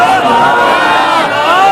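A large crowd chants religious slogans in unison at an outdoor religious gathering in Kangan Pur, Pakistan. The massed voices are loud and sustained, swelling together without pause.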